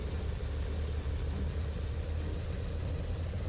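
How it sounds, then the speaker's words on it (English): A vehicle engine in the World War II shooter Enlisted drones continuously at a high, strained rev with a dense low rumble and no change in pitch, loud and alone. "Yeah, we are over revving."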